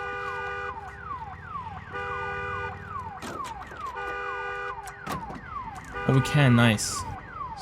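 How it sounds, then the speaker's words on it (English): A car alarm blares in the Days Gone video game after the car is shot, a loud repeating electronic wail that cycles steadily, with brief talk and a burst of other game noise near the end. "I shot the car. Alarm went off."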